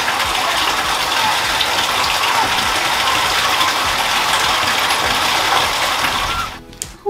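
Steady rushing and splashing of water runs nearly unbroken as a puppy gets a bath, loud and close, then cuts off abruptly near the end.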